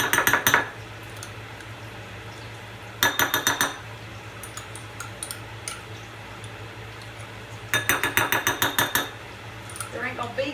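A small spoon scraping and clinking inside a tiny mayonnaise jar, three bursts of quick rapid rattling scrapes separated by quiet pauses, close and fairly loud.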